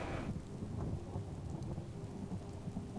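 A thunderstorm in the video game Skyrim rolls in: deep, low thunder rumbles continuously beneath a steady hiss of falling rain, moderately quiet with no voices.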